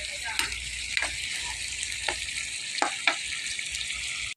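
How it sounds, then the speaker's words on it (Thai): Pork stir-frying in a pan, a loud continuous sizzle broken by a few sharp scrapes and knocks of the spatula, with no talk. "ผัดหมูก่อนนะคะ"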